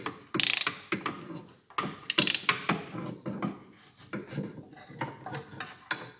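A ratchet works loose a bolt on the starter of an Audi A6 4B 2.4 V6, sounding as close, loud bursts of rapid metallic clicking broken by short pauses, with tool clinks and no voices.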